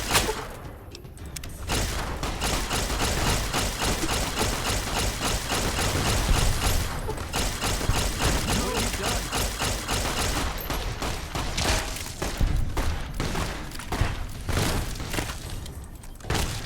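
Rapid bursts of gunfire from the video game Fallout: New Vegas, dense and continuous over about seventeen seconds, with repeated loud shots and scattered thuds and impacts.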